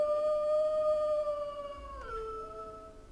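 A sustained wolf howl for the Medhue MEGA Wolf avatar, a clear, tonal call that holds steady, then breaks upward into a higher note before fading, heard alone and up close.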